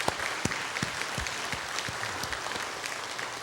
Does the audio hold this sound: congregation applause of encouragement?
yes